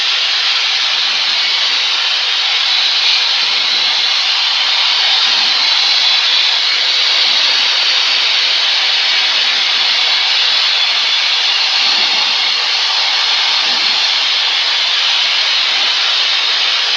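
A small airplane engine drones steadily and loudly during landing practice in crosswinds, a constant broadband roar heard from inside the cockpit for the whole stretch, with no talk over it.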